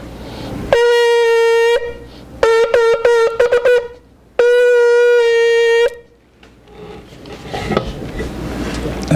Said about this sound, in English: And the Tashrat is going to sound like this.